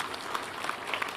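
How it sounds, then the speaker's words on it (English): Audience applause at a university graduation ceremony in Machakos, heard as a brief, steady wash of many hands clapping across a large gathering, with no clear voices over it. "Can we give him a better applause of clap?"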